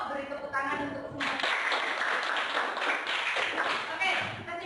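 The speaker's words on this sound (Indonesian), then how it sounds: "Beri tepuk tangan untuk semua" A classroom group claps together in a dense burst of hand claps that starts abruptly and carries on steadily, with voices underneath.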